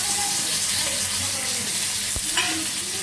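Shutki, washed dried fish, hits a hot pan and sizzles in a loud, continuous hiss, with a sharp click and some stirring scrapes partway through.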